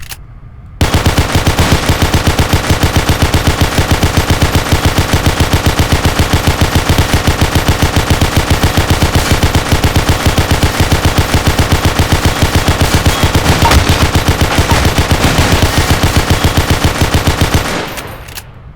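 Rapid automatic weapon fire from Garry's Mod rattles continuously for about seventeen seconds as an unbroken, evenly paced stream of loud shots, then stops abruptly.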